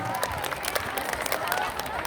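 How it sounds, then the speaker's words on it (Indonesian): A school audience at MAN 1 Merangin claps hands in a dense, continuous patter of many hands, moderately loud, with crowd murmur mixed in. "Ulangi lagi tepuk tangannya aja."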